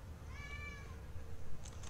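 A cat meows once in a video game (Penumbra Overture): a drawn-out, wavering cry, clear but not loud, over a low rumbling background hum with faint clicks after it.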